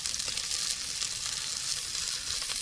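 Onions and green chilies sautéing in a clay pot, a steady close sizzle and crackle of frying with faint stirring, no voices.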